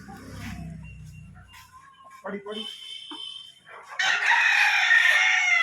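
A breeding set of hens, including a red and white speckled pullet close to laying, clucks at close range while someone talks over them. A loud, bright crowing call follows toward the end.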